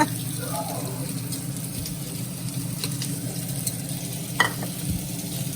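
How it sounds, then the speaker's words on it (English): Garlic, bacon and onion sautéing together in a pan for Zuppa Toscana soup: a steady low sizzle with occasional utensil scrapes, a few sharper clicks near the end, and no talk. "sauteing the garlic, the bacon, and the onion all together"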